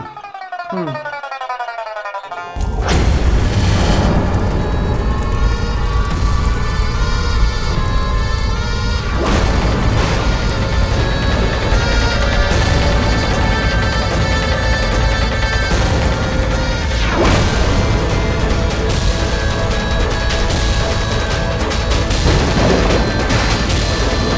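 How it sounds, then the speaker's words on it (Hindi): Loud, sustained rumbling thunder rolls on continuously, with heavier crashing peaks breaking through every few seconds after a brief quieter opening. "अरे बादल गरज रहे हैं।"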